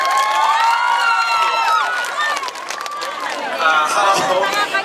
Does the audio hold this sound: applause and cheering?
yes